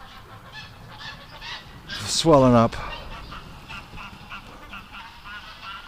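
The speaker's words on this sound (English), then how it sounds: "Okay, the geese are all worked up." A loud, close goose honk cuts in for about half a second, with fainter honking around it and a person speaking briefly before it.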